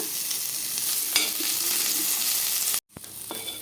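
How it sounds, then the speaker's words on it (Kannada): Thick-cut onion pieces frying in oil in a pan, a loud steady close hiss and crackle throughout, with a brief break near the end before the sizzle resumes. "ಈರುಳ್ಳಿ ಒಂದು ದಪ್ಪ ದಪ್ಪ ಕಟ್ ಮಾಡಿಕೊಂಡು ಚೆನ್ನಾಗಿ ಹುರ್ಕೊಳ್ಳೋಣ"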